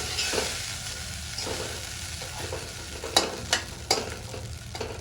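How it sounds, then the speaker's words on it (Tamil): Millet idli upma is turned in a hot pan over a soft, steady sizzle, and a few sharp scrapes and taps of the spoon stand out toward the end, close and with no voices. "லைட்டாக இது பண்ணி பெரட்டி அடுப்பை ஆஃப் பண்ணிக்கலாம். சும்மா அந்த சூட்டிலே பெரட்டணும்."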